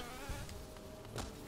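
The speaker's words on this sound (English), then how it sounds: "The bees are not allowed." Bees buzz in the Hive Knight fight of a video game, a faint steady drone with a couple of brief thumps over it.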